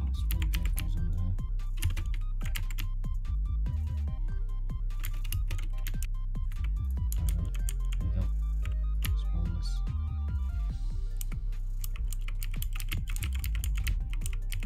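Steady computer keyboard typing heard throughout while playing Roblox, a dense run of clicky keystrokes under constant game music, with no speech.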